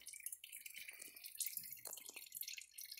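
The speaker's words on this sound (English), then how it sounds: "we got one more drip" Fluid from a 1959 B275 tractor drips during draining, a few distinct, fairly close droplets falling at an uneven pace against a quiet background.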